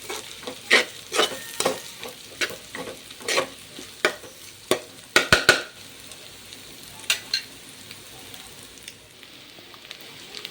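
Eggs and onions fry with curry leaves in a pan, crackling under sharp, irregular stirring clatters that bunch together midway. The pan then settles into a quieter, steady sizzle.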